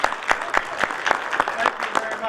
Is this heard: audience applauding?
yes